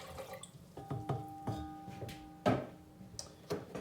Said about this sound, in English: Start your autolyse by adding